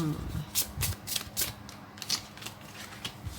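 Tarot cards shuffled by hand in a quiet room, a quick series of riffling, flicking bursts at a steady rhythm, close to the listener.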